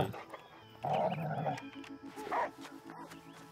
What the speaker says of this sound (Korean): 오늘도 어그로를 끄는 강아지